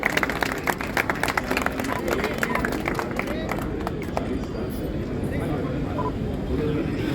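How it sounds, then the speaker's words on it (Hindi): Audience applause at a government health event where a health minister distributes Ayushman cards, with dense clapping at first that thins into a crowd murmur and scattered claps. "जोरदार तालियों से स्वागत करेंगे।"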